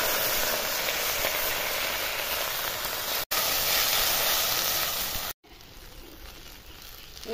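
Okra and dried chillies frying in hot oil, a loud, continuous close sizzle and hiss that briefly cuts out twice, then drops to a quieter sizzle near the end.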